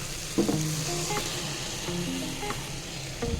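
Masala frying for tomato bath, a steady broadband sizzle with occasional scrapes of a spoon stirring in the pan, close and fairly loud throughout.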